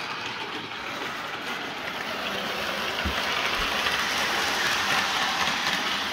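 A Hornby Virgin 125 HST model train runs at full speed, giving a steady loud whirring and rushing hiss with a faint rhythmic rattle that grows slightly stronger, with no talking.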